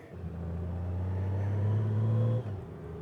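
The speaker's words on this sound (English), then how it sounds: "The RPMs are going up and not even dropping down." A Honda Goldwing motorcycle engine revs up steadily, its low droning pitch climbing and holding loud for a couple of seconds before dropping off abruptly.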